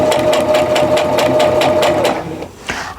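A sewing machine stitching flying geese quilt pieces runs at a steady, fast whirring rhythm for about two seconds, loud and close, then slows and stops with a faint click.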